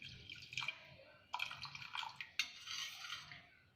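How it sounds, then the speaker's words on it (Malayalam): Tamarind water poured into a pot of sambar for a Kerala sadya, giving a bright splashing trickle in three short bursts, close by with no talk. "ആ പുളി വെള്ളം കൂടെ ആഡ് ചെയ്യാം."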